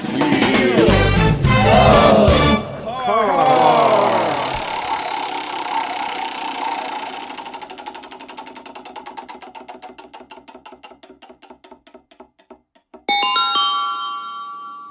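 Volvo 245 wagon race car built for a 24 Hours of Lemons endurance race at Sonoma: a loud engine roars and revs early, then drops to a rough rhythmic idle that fades before a sharp electronic tone cuts in at the end.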